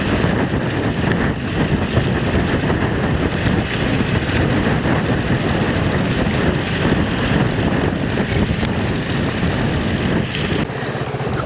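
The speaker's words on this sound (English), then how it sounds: "On the top it's very windy." Strong, steady wind buffets the microphone on a hilltop above Agia Pelagia Bay in Crete, a constant loud rumbling roar with no pause, and no voices over it.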